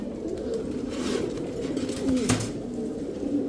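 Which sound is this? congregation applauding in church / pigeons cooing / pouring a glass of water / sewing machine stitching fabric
pigeons cooing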